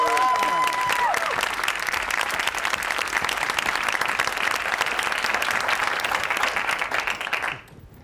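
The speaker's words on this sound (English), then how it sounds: "please join me in giving a great round of applause" Sustained audience applause at an alumni leadership talk, a dense steady wash of many hands clapping at close range that carries on evenly for several seconds and then stops abruptly near the end.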